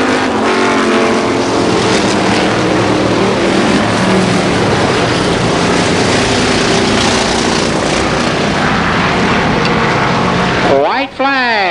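Mini stock race cars at Columbus Motor Speedway, their engines forming a loud, dense, continuous roar as the field passes close by, ending with a sharp pitch-sweeping drone of a car pulling away. An announcer talks over the racing.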